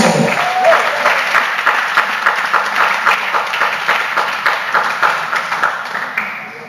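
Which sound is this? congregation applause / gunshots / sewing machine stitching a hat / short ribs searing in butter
congregation applause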